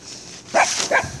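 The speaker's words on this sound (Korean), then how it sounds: "네가 짖어도 안 무섭거든" Large dog barking outdoors, two sharp close barks in quick succession over a low background hiss.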